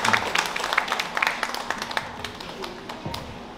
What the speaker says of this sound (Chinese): 大家掌声欢迎一下